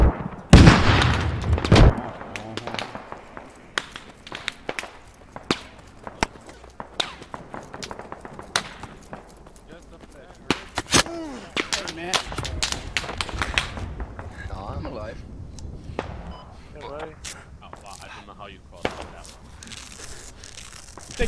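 Gunfire in the military shooter game Squad: sharp, scattered shots and booms of varying loudness, some close and some distant, with voices talking in between.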